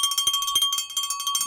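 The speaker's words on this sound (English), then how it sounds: "Let's get the bell going for Stefan." Bell rung to celebrate a runner's first half marathon: rapid, bright metallic strikes repeating steadily throughout, loud and close, alone with no talking.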